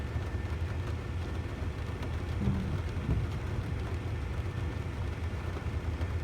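Deep, rolling rumble of thunder during a summer thunderstorm, steady and fairly distant, with a constant wash of rain noise throughout and no voices.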